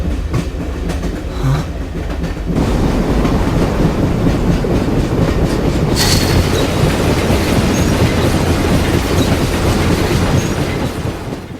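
A train in the video game Persona 3 FES rolls past loudly and close, a steady rumble of wheels with rhythmic clickety-clack, the roar abruptly swelling a few seconds in and staying dense throughout.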